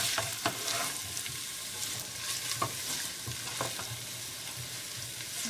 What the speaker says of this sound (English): now you just stir it around. Make sure to coat the onions with the oil